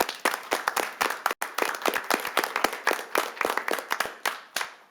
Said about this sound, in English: one big round of applause for you and the two new hires here